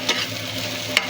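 Chopped onions and minced garlic fry in a pan with a steady sizzle. Two short spatula scrapes stand out near the start and end.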